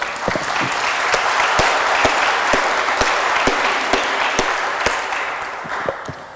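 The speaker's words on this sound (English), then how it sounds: "let's give our panelists a round of applause" An audience at a Cascadia earthquake readiness summit gives panelists sustained, dense applause, a steady roar of many hands with a few sharper individual claps standing out, loud and continuous throughout.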